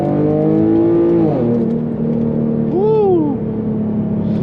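An Infiniti G37 in manual mode revs hard under full acceleration, its engine note climbing steadily before a quick gear change drops the pitch and the pull resumes, loud and close throughout.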